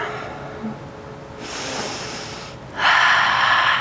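Deep, audible breaths during an intermediate vinyasa yoga flow, a slow inhale followed by a longer exhale and then a stronger, louder breath close to the microphone.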